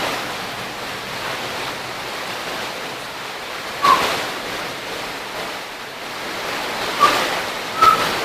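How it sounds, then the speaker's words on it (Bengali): Heavy rain with gusting wind pours down in a steady broadband hiss over trees, with a few brief louder gusts or splashes rising above the constant wash. "এই যে বৃষ্টিটা দেখো, প্রচুর পরিমাণে বৃষ্টি হচ্ছে"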